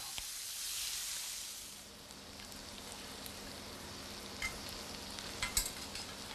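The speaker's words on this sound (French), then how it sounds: "Le chef fait revenir les filets de truite dans du beurre." Trout fillets frying in butter in a restaurant kitchen, a soft, steady sizzle at moderate distance with occasional faint clinks.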